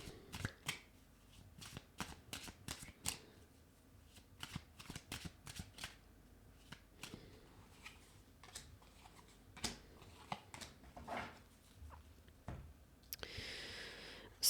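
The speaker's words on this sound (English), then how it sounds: "now I will pull some cards from the Smith-Waite Borderless here" Tarot cards from a Smith-Waite Borderless deck shuffled and drawn in a quiet room, a run of crisp riffling snaps and slides, close and fairly soft, ending with a brief rustle.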